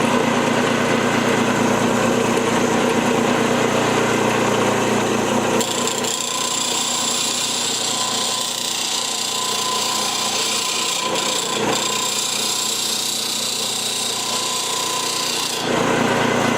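A wood chisel is held against a grinder for sharpening, a loud continuous abrasive grinding hiss that changes tone partway through as the pressure shifts, with no voices.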